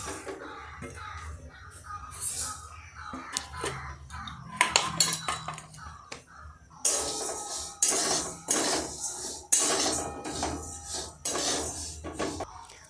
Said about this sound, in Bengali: আমি সমস্ত মশলা কড়াই দিয়ে দিলাম